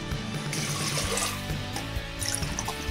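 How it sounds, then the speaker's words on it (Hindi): Water runs steadily into a pressure cooker holding a washed potato, a continuous close splashing and gurgling pour with no pauses. "एंड अब हम इसमें इतना पानी डालेंगे कि ये अच्छी तरीके से भीग जाए।"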